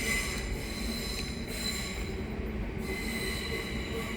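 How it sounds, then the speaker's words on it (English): A train passes near a dark alleyway, its wheels squealing steadily over a continuous low rumble of rolling rail cars, with no voices heard. "train."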